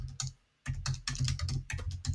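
Typing on a computer keyboard, a close run of quick key clicks in irregular bursts with one short pause near the start.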